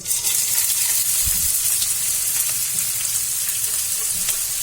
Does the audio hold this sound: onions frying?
yes